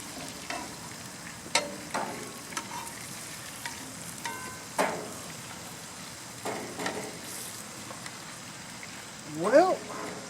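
Ranch meatballs sizzle in a pan on an outdoor grill with a low, steady crackle, broken by sharp clicks and clinks of a utensil, and a brief squeaky sound near the end.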